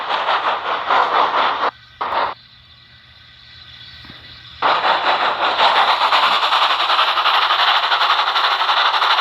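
Steam engine Edward, a toy or model locomotive: a loud, dense rushing hiss of steam and rolling noise, broken by a couple of brief gaps and a quieter stretch before resuming steadily and strongly, close by.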